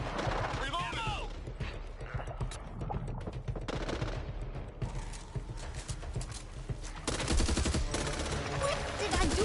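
Gunfire in the Back 4 Blood shooter on PS5: bursts of rapid shots and clattering impacts over a busy game mix, louder toward the end, with no talking.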